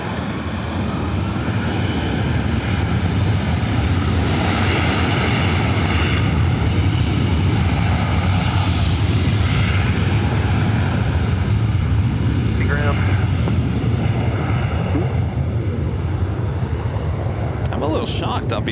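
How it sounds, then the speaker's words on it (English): A Southwest Airlines Boeing 737-800 takes off at LAX, its engines a continuous loud roar that fills the whole stretch, with radio voices talking over it. "This is Southwest Airlines Flight 1721 heading to Baltimore in the 737-800."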